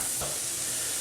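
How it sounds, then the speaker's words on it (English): Onions and garlic sizzle steadily in a pan for a beef stifado, with a soft constant frying hiss and a brief stir partway through. "I've started to soften the onions and I'm adding the garlic"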